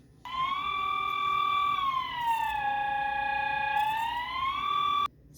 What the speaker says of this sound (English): Swiss alarm sounds like how water tastes